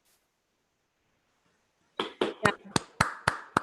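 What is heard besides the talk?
remote audience clapping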